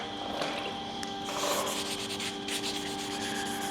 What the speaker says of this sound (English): the biggest trick right now is trying to sand everything